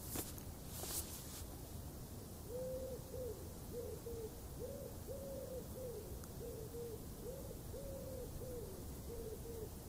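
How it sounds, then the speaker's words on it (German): Doves coo in the distance, a soft rhythmic series of low repeated calls over steady outdoor ambience, preceded by a brief rustle. "Die Tauben gurren in der Ferne"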